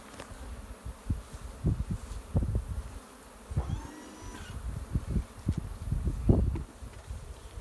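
Honeybees buzz steadily around an open hive as a new hive box is lifted off during a summer split, with scattered knocks and thumps from handling the equipment.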